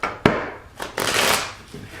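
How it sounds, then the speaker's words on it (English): Tarot cards are shuffled by hand during a live reading: a sharp snap, then a few close, quick riffling and sliding bursts with brief pauses, and no voices. "I'm gonna shuffle the cards a little bit more."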